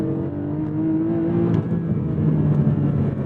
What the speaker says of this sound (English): this naturally aspirated flat six just sounds so good